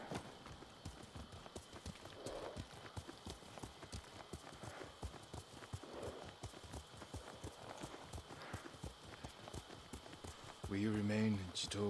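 Horse hooves clip-clop steadily at a gallop through a mountain ride in the video game Ghost of Tsushima, a continuous rhythmic beat under game music and speech, with a louder musical swell near the end.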